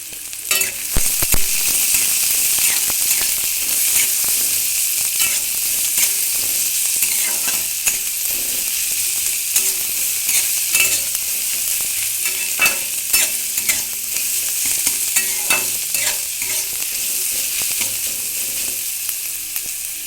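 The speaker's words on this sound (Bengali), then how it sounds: "পেঁয়াজ রসুনটা ভালো করে ভাজা হয়ে গেছে" Chopped onion and garlic fry in a pan with a continuous close sizzle, broken by frequent clicks and scrapes as a spoon stirs them, lasting about twenty seconds with no speech.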